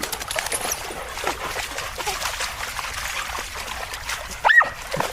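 Dogs wade in a fresh stream, with continuous trickling and light splashing water close by and a sharper splash near the end, and a faint dog whimper.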